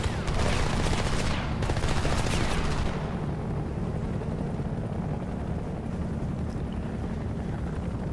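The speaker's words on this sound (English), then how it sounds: "That was pretty terrible shooting" Gunfire in the video game Homefront: a loud, dense burst of rapid automatic shots lasts about three seconds, then fades into a rumbling, echoing tail and low background noise.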